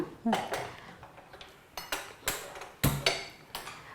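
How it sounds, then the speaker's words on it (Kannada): A metal pan being set on a kitchen stove for deep frying, a series of sharp clanks and knocks spaced irregularly, close and distinct in a quiet room. "ಇವಾಗ ನಾವು ಡೀಪ್ ಫ್ರೈಗೆ ಇದು ಪ್ಯಾನ್ ಇಡೋಣ"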